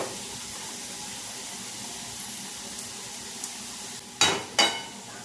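Onion with coarse salt and turmeric cooks in a pan for egg masala. A soft, steady sizzle and hiss runs throughout, ending in two sharper bursts of louder stirring or spattering.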